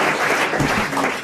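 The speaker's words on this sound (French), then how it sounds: "allons applaudir Monsieur Lognon" A studio audience at a radio game show bursts into a short, loud round of applause for a contestant, dense clapping close and full for about a second.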